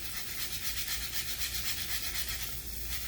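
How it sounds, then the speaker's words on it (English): A jalapeno grated on a microplane grater gives a steady, close raspy scraping in quick repeated strokes, continuous for a few seconds with no talk. "using my microplane grater, I'm just going to grate this bad boy right in here."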